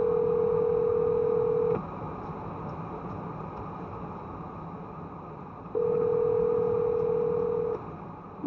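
Phone ringback tone heard twice as a steady electronic tone, each lasting about two seconds with a pause between, over a low background hum, fairly loud and close.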